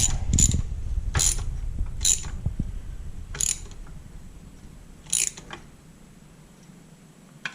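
A ratchet tightens thread-locked bolts on a 2012 KTM 150 SX woods dirt bike, giving a handful of separate short clicking bursts spaced a second or so apart, close and crisp over a quiet background.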